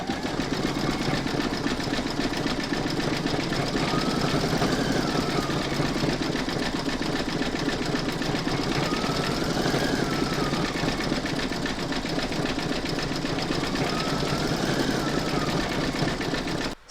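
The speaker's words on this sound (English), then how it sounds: "I'm now going to pop this back into my machine, and I'm going to stitch round number 14" An embroidery machine stitching the top-stitching line on a bag panel held in a hoop, a fast, steady mechanical whir and rapid needle chatter running continuously at close range with no pauses.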